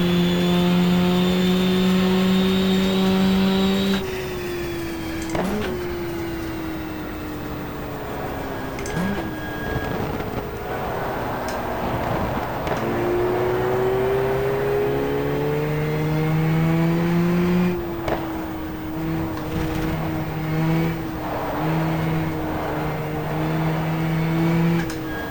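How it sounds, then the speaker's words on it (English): Porsche race car engines in the GTR2 racing game at Suzuka, a 1994 four-hour event, rising and falling in pitch as cars accelerate and shift, several engines overlapping continuously near and mid-distance. "Oh, the Gitan Porsche up the inside."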